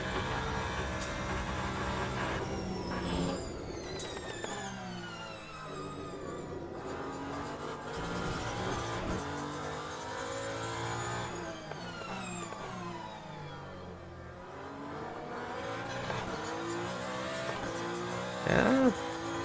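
A Ferrari 499P hypercar engine in the racing game Le Mans Ultimate, with continuous rising and falling revs and rapid gear-shift sweeps, steady at moderate level without speech.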